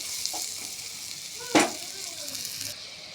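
Spices and salt sizzle steadily in hot oil in a pan while puti fish is cooked, with one louder scrape from stirring midway through the constant frying hiss.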